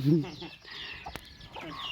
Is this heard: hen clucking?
yes